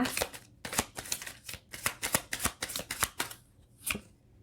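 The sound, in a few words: tarot cards being shuffled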